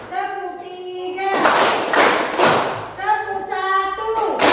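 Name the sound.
classroom rhythmic hand-clapping pattern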